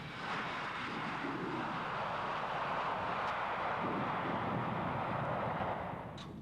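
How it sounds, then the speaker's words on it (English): A passenger airplane pulls up to the jet bridge at a snowy airport. Its engines give a steady, broad roar at moderate distance that holds for several seconds before easing slightly, with no voices. "This aircraft is just pulling into the bridge."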